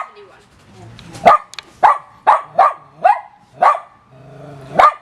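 A dog barks about seven times in loud, close, sharp bursts at irregular intervals, with whining in between.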